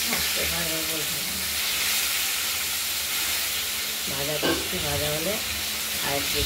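Thinly cut catla fish pieces frying in hot oil, giving a steady close sizzle and crackle throughout, while a voice talks intermittently over the hiss.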